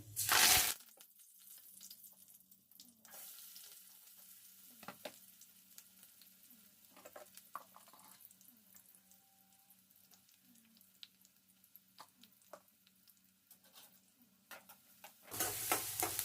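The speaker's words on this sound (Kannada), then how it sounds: "ಈಗ ಅನ್ನ ಒಗ್ಗರಣೆ ಹಾಕ್ತಾಯಿದ್ದೀನಿ ನಾನು" Continuous sizzle of rice being tempered in hot oil, with light scraping and stirring clinks throughout and louder bursts at the start and end.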